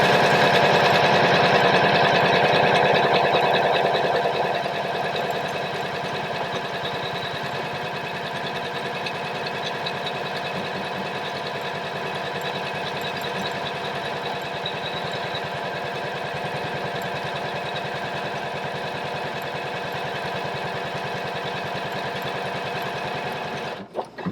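A Janome 500e Limited Edition embroidery machine stitches out a design with a steady, fast mechanical whirr and rapid needle pulsing, louder for the first few seconds and then holding an even, continuous hum with no voices.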